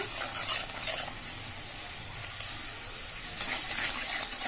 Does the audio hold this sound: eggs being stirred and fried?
yes